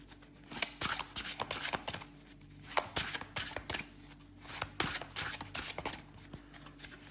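A deck of oracle cards being shuffled by hand, close and fairly soft, in repeated riffling bursts with short pauses between them.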